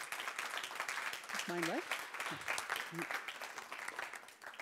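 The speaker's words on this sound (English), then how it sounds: "Give her a round of applause." An audience applauds a speaker after a talk on climate grief: faint, steady clapping throughout, with a voice briefly speaking over it.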